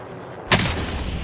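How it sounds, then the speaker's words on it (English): A sniper rifle shot rings out in a shooter video game: one sudden, loud crack after near-quiet, trailing into a sustained noisy rumble. "I just got sniped from somewhere"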